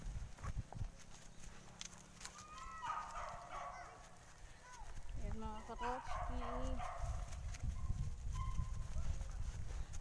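A horse walking on a rough trail along a cliffside, its hooves clip-clopping in a steady low rhythm under people talking and a dog barking.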